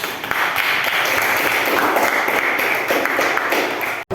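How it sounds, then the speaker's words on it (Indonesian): A school class applauding a student presentation group in a classroom, dense mixed clapping from many hands that holds steady for around four seconds before cutting off abruptly. "Tepuk tangan untuk kelompok auditori."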